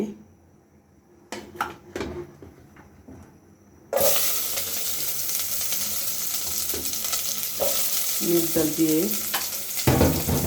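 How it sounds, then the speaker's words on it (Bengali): Fish roe with mung dal and potatoes starts frying in a pan with a sudden loud, steady sizzle, after a few light clinks, then continues hissing with occasional stirring scrapes. "আজ আমি রান্না করছি মুগ ডাল দিয়ে"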